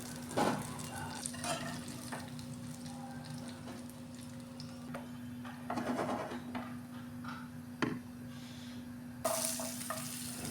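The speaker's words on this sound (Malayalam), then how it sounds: "അപ്പം നല്ല ഫ്രൈ ആയിട്ടുണ്ട് നമ്മുടെ ചിക്കൻ" Chicken pieces frying in oil in a pan, a steady soft sizzle with a constant hum beneath and occasional louder bursts and clatter as the pieces are stirred or moved.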